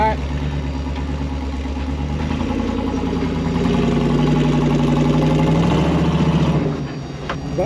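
A car engine idles with a steady, rumbling mid-pitched drone while the car is guided into position. The engine stays loud and even, then drops off abruptly near the end.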